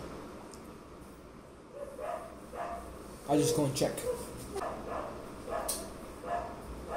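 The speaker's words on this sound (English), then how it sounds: "sorry about the barking again." Several dogs bark outside, with sharp yips and whimpering barks at a moderate distance from a family of dogs down below, while someone speaks indoors over them.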